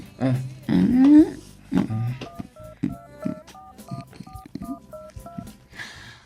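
A mobile phone keypad sounds a series of short, evenly spaced dialing tones as a number is entered, following a stretch of conversation between people.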